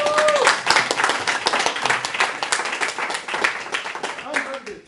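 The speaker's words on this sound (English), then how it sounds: "Everyone, give Andrew a round of applause, please" A meetup audience gives a round of applause, a lively patter of clapping that swells early and then gradually thins, with voices talking over it.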